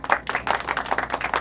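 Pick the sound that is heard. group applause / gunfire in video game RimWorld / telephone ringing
group applause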